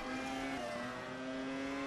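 A Formula race car engine in the rFactor2 sim racing game drones at a steady high pitch, a sustained mechanical whine heard alone without speech.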